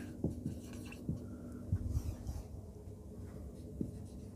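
Pen writing by hand on paper during a Class 8 linear equations lesson, giving soft scratchy strokes and a few small taps, faint and close, with no talking over it.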